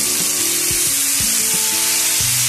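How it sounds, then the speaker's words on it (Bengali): Tomatoes sauté with nigella seeds in a pan for a sorputi fish curry, making a loud, constant sizzle with occasional stirring scrapes and some humming tones underneath. "টমেটোটা গলে না যাওয়া পর্যন্ত একটু কষে নেব"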